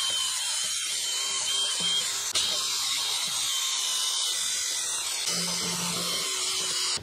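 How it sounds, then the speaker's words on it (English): A wire wheel spun by a drill scrubs rust off a Honda Odyssey rear brake hub, giving a steady, loud, high hissing whine that runs throughout with slight changes in pitch as the pressure shifts. "I'm going to try to clean the rust off of this hub with this wire wheel on a drill"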